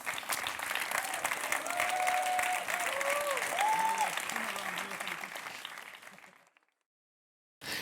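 A gala audience applauds award winners with sustained, dense clapping while a voice speaks over it, then the applause fades out into near silence before a brief burst returns at the end.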